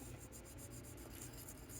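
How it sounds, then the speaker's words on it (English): A sanding stick rubs against thin miniature tentacle parts, making a faint, quick back-and-forth scratching with a regular rhythm and no voices. "I'm just going to go at it with a stick. Yep, a sanding stick."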